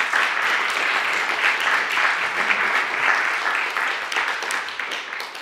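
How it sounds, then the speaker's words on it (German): An audience at a panel discussion event bursts into applause, a dense, steady wash of clapping from many hands that carries evenly and fades slightly at the end. "Applaus für Natascha Strobel."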